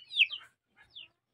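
Farm chickens give a couple of brief, faint clucks close by, a sharper call and then a softer one after a short gap, with no talking.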